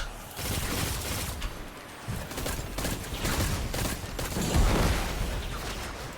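Rapid bursts of pulse rifle fire in Destiny 2 Final Shape, dense rattling volleys layered with explosions and game effects, sustained and loud across the whole stretch with no talking.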